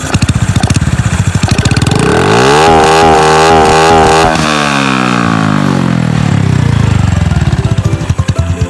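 A Honda Wave 110i motorcycle with an aftermarket exhaust idles with a loud, fast putter, then revs up sharply, holds high, and winds back down to a rough, pulsing idle, very close and alone.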